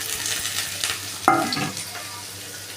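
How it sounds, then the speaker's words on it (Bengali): Chopped onion frying in hot oil left from frying potol, a close continuous sizzle with a sharp burst of crackling as something hits the pan partway through, plus stirring scrapes. "ওই তেলেই আমি কুচনো পেঁয়াজ দিয়ে দিলাম"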